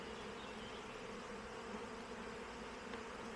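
A honeybee swarm on an apple tree at an apiary, being settled into a hive, hums as a dense, steady buzz that holds at an even level throughout, with no voices.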